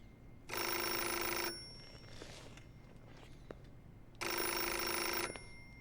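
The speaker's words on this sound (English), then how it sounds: "Somebody answer the phone." Telephone ringing in the video game Metal Gear Solid: Portable Ops, two loud electronic rings about a second long each, separated by a few seconds of quiet with faint shuffling.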